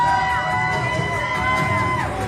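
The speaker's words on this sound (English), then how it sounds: "Chanting, you sold out." A wrestling crowd chants "you sold out" in unison, a loud, continuous wash of massed voices filling an arena.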